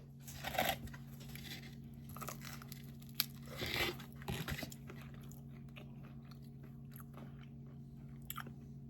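Close crunchy bites and chewing of pizza topped with crunchy onion chips come in a few short bursts, separated by quiet pauses.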